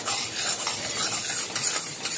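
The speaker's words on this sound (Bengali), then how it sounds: "এবার ডালটা ভালো করে ভাজতে হবে।" Lentils frying in a wok, a dense continuous sizzle with quick metallic scrapes of stirring, close and fairly loud with no voices.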